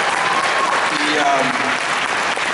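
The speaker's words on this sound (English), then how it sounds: "So you can clap for Steve, he did a lot of hard work." Audience clapping at a steampunk convention's closing session, a dense steady burst of applause from many hands with faint voices mixed in.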